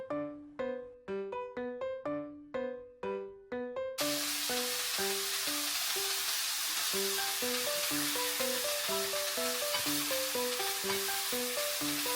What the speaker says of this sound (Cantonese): 每邊煎大概2至3分鐘， 直至金黃色。